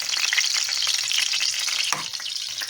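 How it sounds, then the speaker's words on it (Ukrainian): Loud, steady sizzling and crackling of potato pancakes frying in hot oil in a pan, continuous and close, with no voices. "І треба викладати на розігріту сковорідку."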